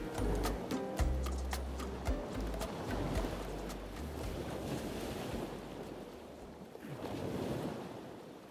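Ocean waves on a Costa Rica beach, a continuous washing surf with wind buffeting the microphone and a few sharp clicks early on, the swell rising again near the end.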